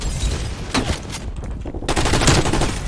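Bursts of Galil assault rifle fire in the shooter game Call of Duty: Warzone, loud and close, with rapid automatic volleys separated by a brief pause before the firing resumes.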